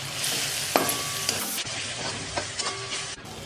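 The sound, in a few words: sautéing ginger and garlic with fried melon seeds and cashews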